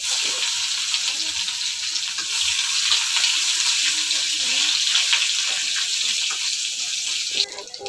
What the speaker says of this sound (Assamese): তাৰপিছত দি দিম শুকান জলকীয়া, তেজপাত, পিঁয়াজ আৰু খোৱা সময়খিনিত নহৰু অকণমান দি দিম